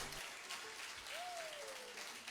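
An audience at a live Hounds of Finn show claps in a dense, even patter, moderately quiet, with a brief faint tone rising over it midway.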